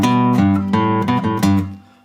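Electric guitar in standard tuning playing the main riff of a song, a loud, close, strummed figure of repeated chord stabs in an uneven rhythm, ringing out alone and fading at the end.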